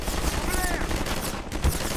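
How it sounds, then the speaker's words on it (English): Gunfire in the video game Half-Life 2 during a fight with Combine soldiers, a dense, continuous crackle of shots and rattling bursts filling the whole stretch at a steady loud level. "There's still gunfire being gunfired."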